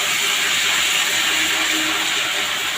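Cumin seeds, ginger paste and cumin paste frying in hot oil for a dal puri filling, a loud, close, continuous hiss that stays steady throughout.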